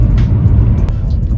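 A car cruises along the NH44 highway toward Srinagar at about 3 a.m. on empty roads, giving a steady, loud low road-and-engine rumble from inside the cabin with no talk.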